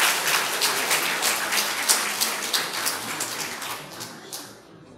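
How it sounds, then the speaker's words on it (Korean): Audience applause at a church education department graduation ceremony, a crisp rapid patter of many hands clapping steadily, fairly loud and close, then fading out at the end. "우리 격려 박수 부탁합니다."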